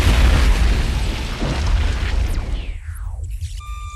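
A bomb's triggering charge blows out a section of pipeline in a James Bond film, a loud, broad explosive boom rolling into a long rumbling decay, followed by a falling whistle and fading debris.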